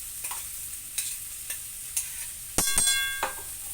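Ground chili paste fries with ginger and taro curry while a spoon stirs and scrapes the pan in regular knocks, over a soft sizzle and one brief metallic clang near the end.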